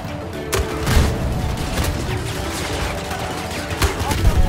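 Rapid gunfire in Battlefield 2042 aimed at a tank through smoke, sharp close shots cracking in uneven bursts over heavy battlefield rumble and distant booms.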